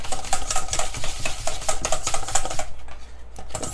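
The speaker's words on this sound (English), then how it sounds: "Gonna mix this in." Waffle batter being stirred by hand in a bowl, with a rapid scraping, clinking rhythm of utensil against the bowl, close and steady before dropping away near the end.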